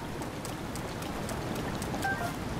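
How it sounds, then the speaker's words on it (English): Steady rain in the video game Breath of the Wild, a constant even patter with faint droplet ticks, heard alone without talk. "It's raining."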